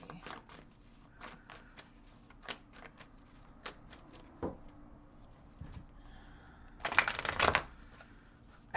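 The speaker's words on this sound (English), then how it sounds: "it got shuffled in because of the way I was shuffling" Tarot cards shuffled by hand in a series of soft, crisp riffling flicks, building to a denser, louder burst near the end, heard close in a quiet room.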